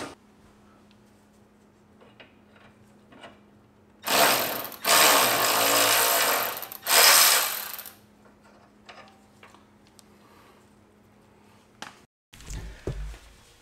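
A power tool whirs in a few loud bursts while a sway bar end link comes off a Porsche 997 Turbo during a strut replacement, between quieter clicks and handling noises close by.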